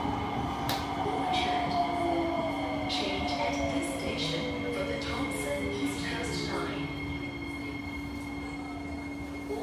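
Ride aboard an MRT metro train: a steady loud rumble of wheels and carriage with high squealing tones from the rails, and voices talking throughout.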